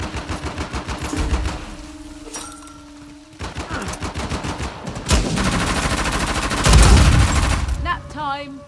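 Rapid bursts of automatic gunfire rattle through a firefight in Uncharted: The Lost Legacy, loud and sustained over several seconds with heavier volleys near the end, mixed with game effects.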